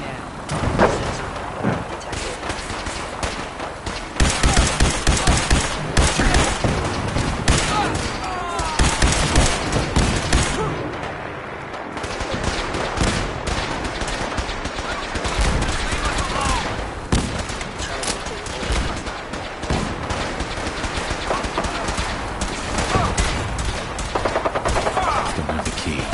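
Gunfire from the video game Fallout 4, dense and near-continuous shooting with sharp bursts throughout, loud and up close, with a voice talking over parts of it.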